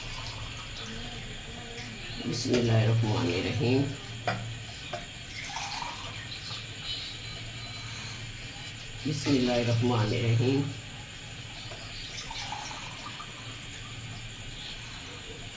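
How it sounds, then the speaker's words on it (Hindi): Water splashes into a cooking pot of beef and spinach for palak gosht in two separate pours, someone speaking briefly during each, with quiet kitchen background between. "हाँ जी, ये अब मैं डाल रही हूँ पानी।"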